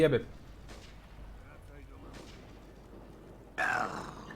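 Muffled gunshots from the video game Original War go off at intervals, with a sharper blast near the end, over low background noise and faint voices.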